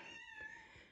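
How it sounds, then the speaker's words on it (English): A cat meows on the other side of a wall in a room lined with shelves of seedlings, a muffled, drawn-out cry that is moderately loud and heard alone with no talking. "the cat's meowing on the other side of the wall."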